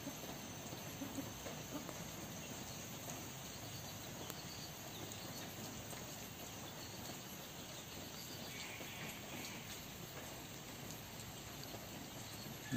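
Rain falls steadily with a soft, even patter throughout, quiet and continuous, with faint insect chirping underneath.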